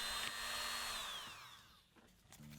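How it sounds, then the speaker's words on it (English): A high-pitched Dremel rotary tool with a hard stone bit whines steadily on an old metal draw gauge, its pitch dropping as it grinds, then trails off into quieter scraping and a few light taps. "I used a hard stone bit on the Dremel"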